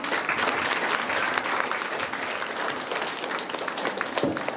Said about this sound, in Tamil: அந்த உணர்வுக்காக நல்லா கைத்தட்டலாமே